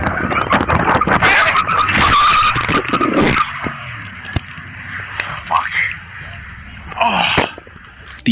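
A car skids during a high-speed police pursuit, giving several loud, drawn-out tire squeals with engine roar between them, close and harsh, and a voice talks over part of it.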